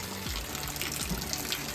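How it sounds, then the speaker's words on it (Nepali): Rain falling in a village on an overcast, misty day, a steady close wash of water and dripping that runs unbroken with no voices. "यहाँ चाहिँ यस्तो पानी परिरहेको छ"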